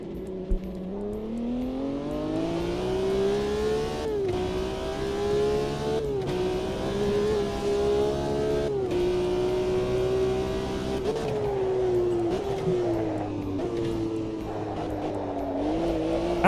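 Formula 1 race cars roar in a racing sim video game, a loud, close, sustained engine whine that climbs and dips in pitch with brief drops between gear shifts, running continuously.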